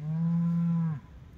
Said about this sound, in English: Stupid little bull out here